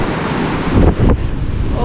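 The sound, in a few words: sea waves on a windy shore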